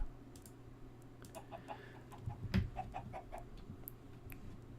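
Chickens in the video game Minecraft make a few soft clucks, faint and scattered over quiet ambient noise, with no one talking.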